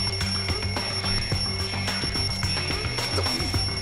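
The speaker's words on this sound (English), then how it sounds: "The wall clock just started ringing." Wall clock alarm in the Danganronpa 2: Goodbye Despair game, ringing continuously in rapid repeating bell strikes over a steady tone, clear and unbroken with no voices.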